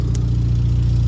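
A Hyundai Genesis Coupe with an exhaust leak idles close by in a steady low, rumbling drone with a faint pulsing throb, unbroken and free of talk.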